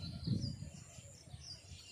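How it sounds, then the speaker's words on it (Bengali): Small weaver birds chirp faintly in a tall village tree, scattered high twittering calls heard at a distance over a low background rumble. "কিচির মিচির করছে"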